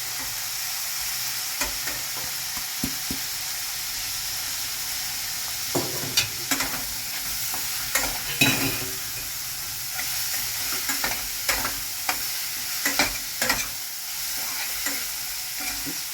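Soaked mushrooms and green peas sizzle in a hot wok with spices while a spoon scrapes and stirs, giving a steady hiss broken by irregular clattering strokes against the pan, no voices.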